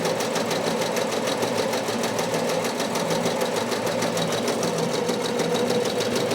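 An embroidery machine stitches a design onto a beanie, giving a steady, fast mechanical chatter of needle strokes that runs loud and unbroken from start to finish, with no talking over it.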